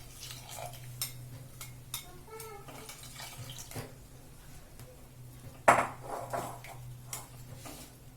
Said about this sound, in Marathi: आणि हलवून घ्यायचे सतत आपल्याला कारण बेसन मग घट्ट होतं ना तर मग सतत हलवायचे